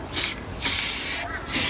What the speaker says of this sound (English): lightly spray in quick squirts